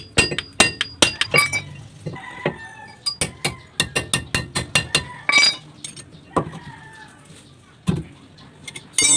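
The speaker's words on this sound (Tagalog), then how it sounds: "pupupukin muna natin ng martelyo para mauga yung thread sa ilalim, para malambot na siya ikutin" A hammer tapping on a brake part to loosen a stuck thread during a brake repair, heard as many sharp metallic knocks in quick uneven clusters with short pauses between them, close and loud, with no talking.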